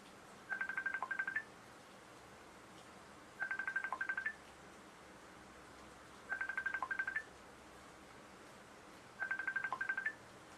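An incoming audio call chimes as a quiet electronic ringtone in four evenly spaced bursts of rapid beeps, with short silences between them.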